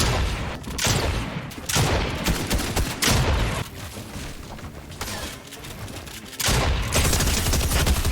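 Rapid bursts of gunfire from a shooter video game, several loud volleys of shots with short gaps between them, dense and close, no talking.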